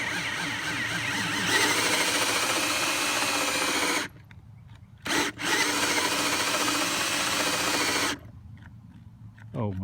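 A cordless drill winds the crank of a ham radio tower winch, whirring loudly and steadily with a ratcheting grind, cutting out twice for brief pauses before starting again, then stopping near the end.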